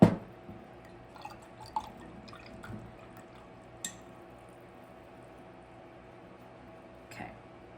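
A paintbrush rinsed in a cup of paint water during color-wheel mixing, giving faint scattered drips and small splashes over a quiet room background.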